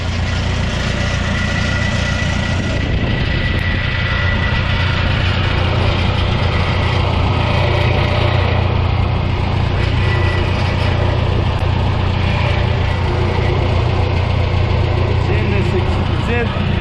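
An old 1977 Yale forklift engine idles with a rattle somewhere in its muffler: a loud, continuous low rumble close by, steady for the whole stretch, with a faint buzzy rattle in the exhaust note.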